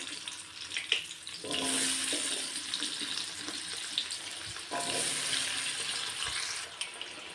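Potatoes frying in melted butter in a pan give a steady, moderate sizzle that swells and eases, with a pause in the middle before the crackle resumes.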